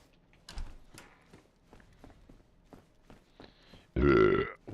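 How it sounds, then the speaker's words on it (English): A loud, close belch erupts near the end, one long rumbling burst following quieter shuffling and faint taps. "Apologies to anybody that's wearing headphones that I've just belched down the earpiece off."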